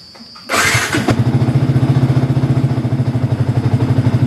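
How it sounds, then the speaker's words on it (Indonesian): A Yamaha New Vixion motorcycle cranks and fires up nearby, then settles into a loud, steady, rhythmic idle with no talking. "kita hidupkan mesinnya"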